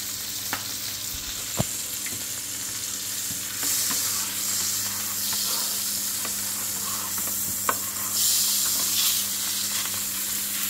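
Butter sizzles steadily in a frying pan before eggs go in, a constant close frying hiss broken by a few sharp clicks and taps of utensils, with no talking.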